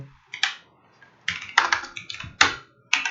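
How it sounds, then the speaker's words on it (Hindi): Fingers type an address on a computer keyboard, close and crisp, in short bursts of several clicks separated by brief pauses. "जैसे हम प्रॉपर अपना एड्रेस लिखते हैं वैसा ही एड्रेस हमें यहाँ टाइपिंग करना है।"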